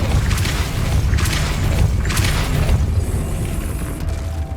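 Depulso spell cast in Hogwarts Legacy: a loud, heavy whooshing blast with deep rumbling booms, pulsing in about three surges before fading into a thinner ringing tail.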